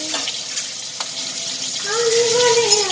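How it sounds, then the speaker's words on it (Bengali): Greens (saag) frying in a pan, giving a steady broadband hiss and sizzle with a faint tonal whine and a slight swell near the end. "এদিকে শাকটা ভেজে নিই"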